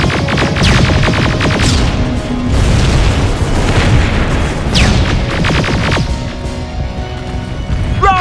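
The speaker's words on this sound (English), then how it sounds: "Rockets! They're heading this way!" Incoming rockets blast apart in Terminator Resistance, a dense run of loud booming explosions with sharp bursts and whistling streaks over a constant heavy rumble of battle, and no voices.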